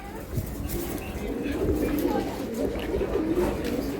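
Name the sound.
pigeons cooing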